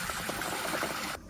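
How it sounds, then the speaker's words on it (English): A Toto Drake toilet gives its first flush, a continuous rush and gurgle of water that runs for about a second before cutting off abruptly. "The Toto Drake here, first flush."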